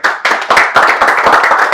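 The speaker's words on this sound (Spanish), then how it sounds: "Un aplauso." Brisk clapping from a small group, a quick burst of close, sharp hand claps in uneven rhythm lasting under two seconds.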